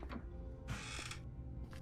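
A door closes in the horror video game Granny 3, a brief mechanical creaking clatter followed by a short hissing burst and a fainter scrape, quiet and close with no talk over it.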